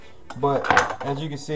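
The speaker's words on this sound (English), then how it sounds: "I'm about to cut the fish up in little cubes" A knife clacks against a cutting board while chopping snapper fillets into cubes, a few quick knocks and metallic clinks heard close under a person talking.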